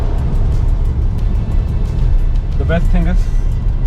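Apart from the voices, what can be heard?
Skoda Kushaq 1.5 MT car cruising on highway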